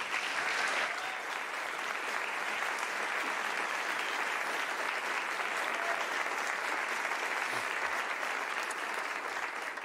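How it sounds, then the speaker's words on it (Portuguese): A live concert audience applauds a handpan, percussion and ancestral-music ensemble: an even, continuous wash of many hands clapping at a distance, steady for the whole stretch without talk. "Palmas, por favor."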